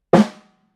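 A single drum hit, sharp attack with a short ringing decay, close and fairly loud, alone.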